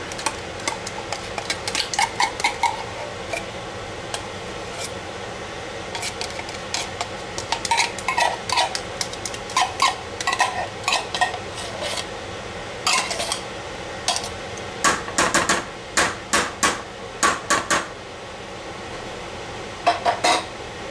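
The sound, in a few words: stirring creamy sauce and soup in a pot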